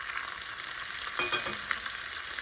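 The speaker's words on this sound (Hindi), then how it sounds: "फिर हमने यहाँ पे जो पेस्ट तैयार करके रखा था, हम उसको भी तेल के अंदर डाल देंगे" A prepared spice paste, added after mustard and cumin seeds, fries in hot oil for urad dal, a steady bright crackling sizzle with brief stirring scrapes partway through, close and without speech.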